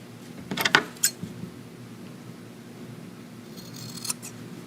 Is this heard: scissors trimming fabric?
yes